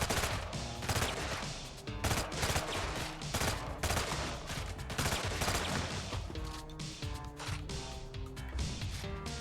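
Rapid bursts of gunfire and machine-gun fusillades in the video game Iron Nest, dense and repeated volleys firing close together over the full stretch, fairly quiet overall, with no talk.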